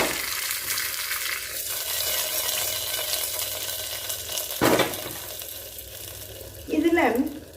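Cumin, mustard seeds and torn curry leaves fry in hot oil in a pan for a South Indian kootu, a steady sizzle with stirring clatter and a sharper burst near the end, no talking.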